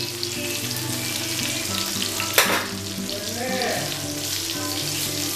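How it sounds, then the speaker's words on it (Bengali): Chicken seekh kebabs shallow frying in oil in a home kitchen, with a steady close sizzle throughout, one sharp spatter or clatter partway through and faint stirring movement. "ডুবো তেলে ভাজাটা হবে না, স্যালো ফ্রাই করবে"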